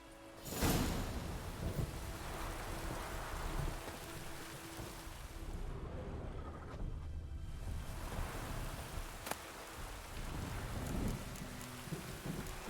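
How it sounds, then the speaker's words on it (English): A rainstorm hisses steadily in The Witcher 3, with low rolling thunder rumbling through the dense wash of rain and a sharp crack partway through. "A storm, damn it."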